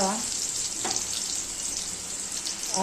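Onions fry in hot oil until brown, a loud, dense sizzle that continues close and uninterrupted, with a light stirring scrape partway through.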